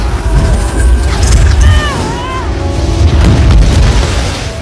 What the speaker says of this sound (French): Wanda intervient in extremis, le maintient en l'air et provoque l'explosion